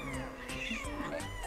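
An angry cat gives a drawn-out, wavering yowl close by, a continuous caterwauling growl-meow with shifting pitch.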